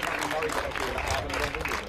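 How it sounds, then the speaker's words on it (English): Spectators at the Oulton Park Mini Challenge race podium give steady, dense applause, heard close and continuous with a commentator talking over it. "So applause as the drivers make the first podium of the day"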